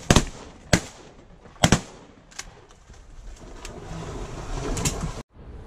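Gunshots from a duck hunt for early-season mallards, several sharp loud reports with two close pairs in the first two seconds, then quieter outdoor ambience.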